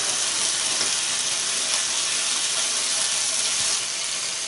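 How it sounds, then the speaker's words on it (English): Bacon crisping in a hot pan gives a steady, loud, bright sizzle and crackle that runs unbroken throughout, with no voices over it. "It's nice crisp bacon coming up."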